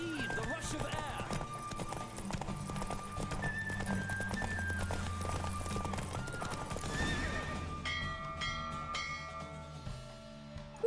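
Hooves clip-clop rapidly as a horse gallops during a race in The Witcher 3, with a whinny and distant bells. Voices speak over the steady hoofbeats before the pace eases near the end.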